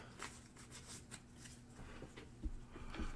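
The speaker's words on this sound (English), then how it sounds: "Shuffle it up." Close, quiet hand shuffling of a deck of game cards, soft riffles and taps in quick irregular bursts, alone without speech.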